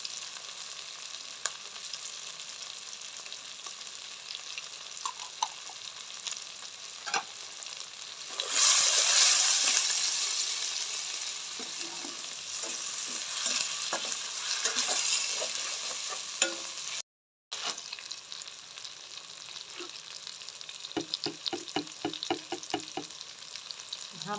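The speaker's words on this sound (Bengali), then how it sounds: "টমাটো দিয়ে পেঁয়াজটা ভালো করে ভেজে নেব।" Onions and tomato frying in a pan for a prawn pulao, with a steady crackling sizzle that swells loudly for a moment and is broken by scattered stirring clinks and scrapes.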